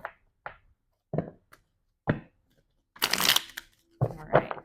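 Tarot cards are shuffled by hand in several separate riffles and taps, ending with two longer, louder flurries of cards, close up.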